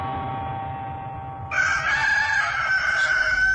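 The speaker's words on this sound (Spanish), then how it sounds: "En ese momento, un gallo cantó." A rooster crows loudly and close by, a single drawn-out cock-a-doodle-doo rising after a brief lead-in and holding strongly to the end.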